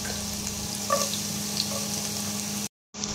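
Ginger and garlic fry in two spoonfuls of hot olive oil, a steady soft sizzle with a few brief pops and stirring touches, cut off by a short silence near the end.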